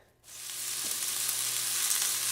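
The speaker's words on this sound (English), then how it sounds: "What we're doing now is lightly browning the meatballs on all sides." Meatballs hit a hot frying pan and break into a loud, steady sizzle that holds evenly up close with no talking.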